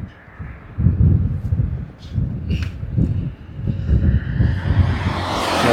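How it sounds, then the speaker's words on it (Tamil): Traffic streams across a long new flyover bridge, a steady rumbling wash of passing vehicles with swells as cars go by and a growing hiss of approaching traffic toward the end, fairly loud and continuous. "வண்டியெல்லாம் சல்லு சல்லுன்னு போயிட்டே இருக்கு"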